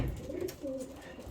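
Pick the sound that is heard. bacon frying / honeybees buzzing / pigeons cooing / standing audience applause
pigeons cooing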